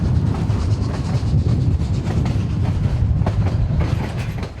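A historic narrow-gauge train on the Cumbres & Toltec Scenic Railroad in the Rockies rolls steadily along the tracks, a loud continuous rumble with rhythmic clickety-clack from the wheels and no talking.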